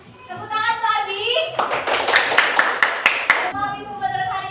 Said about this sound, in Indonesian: beri tepuk tangan untuk Abi